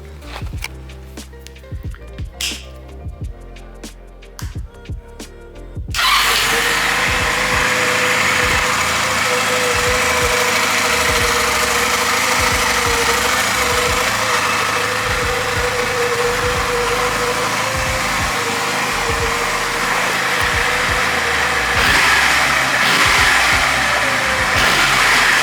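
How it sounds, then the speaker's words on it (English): Honda Rebel motorcycle engine, running well after carburetor adjustment, starts about six seconds in and then idles steadily and loudly close by for the rest of the clip, after a stretch of quieter handling noise. "the bike starts and runs absolutely perfectly now"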